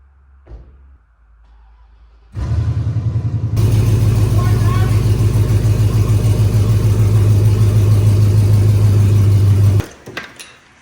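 An old Honda Civic engine rumbles steadily at close range for several seconds after a thump, then cuts off with a short clatter.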